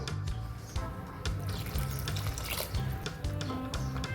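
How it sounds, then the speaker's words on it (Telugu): Water poured into a thick gongura egg curry, a steady splashing pour with faint background hum and no talking. "ఇంకొద్దిగా వాటర్ వేసుకుందాం"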